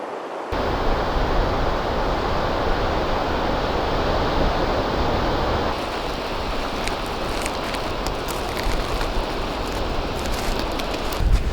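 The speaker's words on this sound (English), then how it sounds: "It's a bit windy today" Constant broadband rushing of wind buffeting outdoors on a beach at Kirkcaldy, loud and unbroken, with a slight shift in texture partway through.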